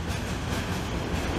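A CN freight train led by switcher locomotives crosses an overpass on Charlevoix Street in Montreal, giving a loud, continuous rolling rumble and rattle of wagons close by.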